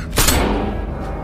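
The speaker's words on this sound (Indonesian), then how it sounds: "Hill langsung menembak Jen." A single gunshot from an action film, a sharp near blast with a short booming tail that rings out and fades over about a second, with no voices.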